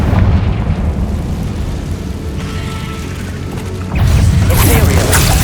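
A Confringo blasting spell exploding in the wizarding game Hogwarts Legacy, heavy crashing booms over a rumbling battle bed, with a sharp louder burst near the end.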